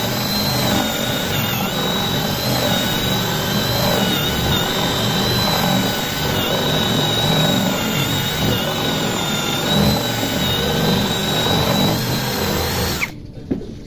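Cordless impact drill with a 10 mm chuck running continuously at high speed, a loud close whine with a slight stutter from the slipping chuck, cutting off abruptly near the end.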